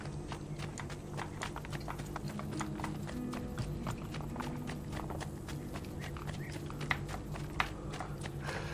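Horse hooves clip-clopping in the Assassin's Creed II video game, a steady rhythmic trot of hoofbeats over constant background game ambience, with no speech.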